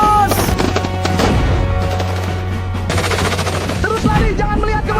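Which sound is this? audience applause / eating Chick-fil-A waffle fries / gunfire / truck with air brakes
gunfire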